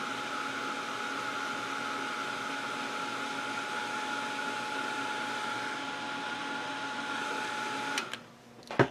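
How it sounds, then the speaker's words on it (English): A hair dryer or heat gun blows steadily on freshly made craft bats, a loud, even rushing drone with a constant tonal hum that runs for about eight seconds before switching off with a couple of clicks. "if you have your handy dandy hair dryer or heat gun, you want to dry those real quick"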